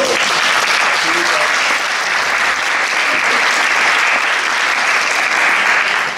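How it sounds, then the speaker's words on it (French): Steady, fairly loud audience applause from a crowd at a 2024 Telethon charity event in Charente-Maritime, a dense wash of clapping sustained for the whole stretch. "On peut vraiment l'applaudir"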